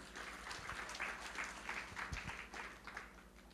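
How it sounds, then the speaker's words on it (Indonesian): A church congregation claps, the applause faint and distant and rising and falling in soft waves over a low background hum. "Berikan tepuk tangan."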